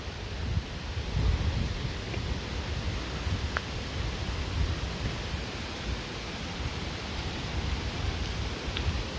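Torc Waterfall near Killarney, Ireland, a steady broadband rush of falling water heard from the approach path, continuous and fairly loud with no talk over it.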